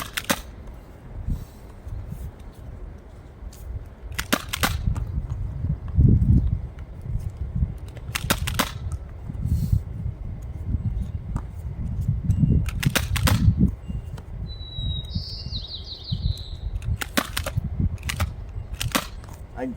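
Several sharp snaps of a T-pull Nerf blaster firing foam darts, spaced irregularly over a dull mechanical background of handling noise.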